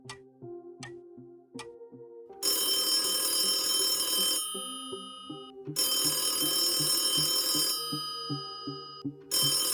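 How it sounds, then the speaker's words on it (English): A telephone rings in a newspaper office, two long loud rings separated by pauses, after softer tonal clicks and plucked notes. "the phone rings in the La Repubblica newspaper office"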